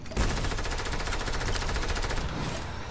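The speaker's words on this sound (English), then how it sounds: "I keep getting shot at!" Sustained rapid automatic gunfire in a battle-royale arena video game, a loud continuous rattling burst lasting a few seconds with no talk over it.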